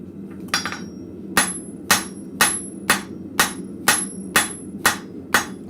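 Hammer blows on metal at a blacksmith forge, about nine sharp ringing strikes in a steady rhythm roughly half a second apart, close and loud over a low shop hum.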